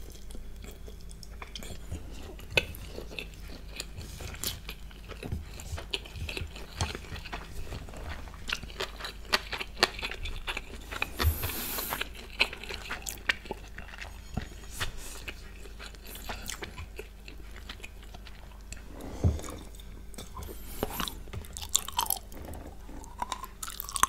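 Close, crisp crunching and biting of crunchy thin egg noodles, irregular bites repeating throughout, quiet surroundings.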